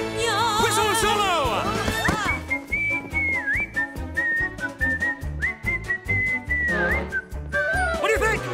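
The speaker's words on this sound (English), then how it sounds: "Whistle and solo!" A cartoon song's whistling solo carries a bright, sustained melodic line with slides and trills over a rhythmic band backing, loud and continuous with busy accompaniment beneath.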